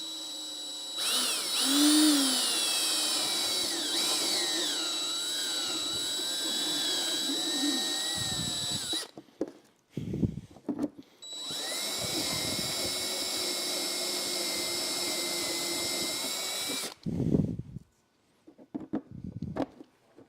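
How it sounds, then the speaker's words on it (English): A power drill whines loudly in two long bursts boring a 5/8-inch hole through plastic for Honda Gold Wing saddlebag side lights, its pitch shifting as it bites, with short pauses and handling noise between. "we're going to drill this out to the same size we drilled that one, so 5/8"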